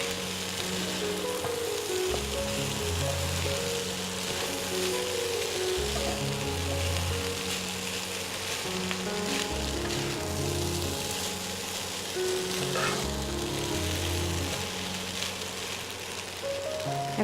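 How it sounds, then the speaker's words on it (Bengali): Rice and prawns stir-frying in a pan for chicken fried rice, a steady close sizzle with intermittent scraping and stirring knocks throughout. "চিংড়ি মাছটা অ্যাড করে আমি এটাতে অল্প অল্প করে আমি 2 বারে ভাতটা দিব"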